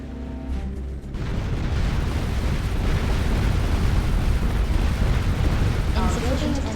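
A building is destroyed in a strategy video game: a heavy, rumbling explosion that swells after a brief quiet start and roars on loudly and continuously to the end.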